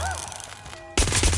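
Sudden burst of rapid automatic gunfire from weapons in the video game Watch Dogs Legion, loud and dense, cutting in abruptly after a quieter stretch of game audio.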